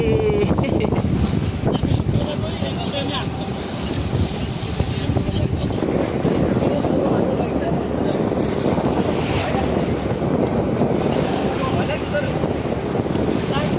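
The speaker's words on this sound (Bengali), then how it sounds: "প্রচন্ড ঢেউ" Strong sea waves rolling and churning around a boat off Bakkhali, a constant loud roar of surf and water mixed with heavy wind buffeting the microphone, with no clear breaks throughout.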